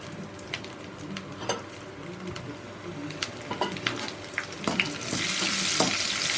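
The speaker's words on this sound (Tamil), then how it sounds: "நல்லெண்ணெய் போட்டிருக்கேன் நான். கருவேப்பிலை கொஞ்சம் கிள்ளி போட்டுக்குவோம்." Curry leaves crackle and sizzle in sesame oil with onion vadagam in a pan, with scattered pops and stirring scrapes, close, swelling into a loud broad hiss near the end, with no talk.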